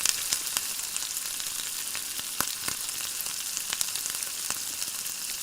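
Chili garlic sauce sizzles in a pan over medium-low flame for Korean fried chicken, a steady fine crackling hiss with scattered sharp pops, close and unaccompanied by voices.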